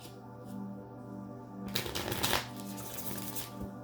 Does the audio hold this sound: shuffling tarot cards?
yes